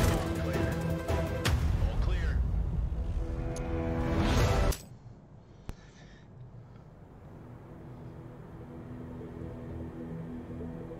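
A loud, dense burst of explosion noise in the game No Plan B rumbles for several seconds, then cuts off sharply into a quiet background hum with a faint click.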